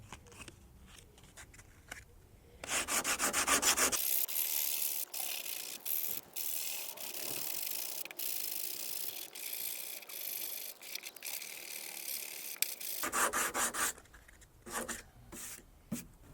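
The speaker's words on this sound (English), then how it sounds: "80 grit paper on a block" Steady abrasive rasping of 80-grit sandpaper on a block against a Skoda Fabia bonnet, a continuous gritty scrub lasting about ten seconds, with short scuffs and clicks before and after.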